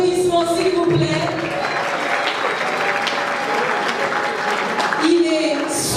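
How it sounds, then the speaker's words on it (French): Guests at a wedding reception blessing evening applaud together, a steady wash of clapping lasting several seconds with some tonal sounds and brief voices mixed in. "L'abbé Coco, sous vos applaudissements, s'il vous plaît."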